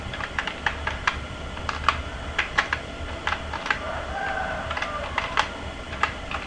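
Steady typing on a computer keyboard while entering PHP MySQL database code, with quick irregular key clicks and occasional louder taps running continuously at close range, no voices.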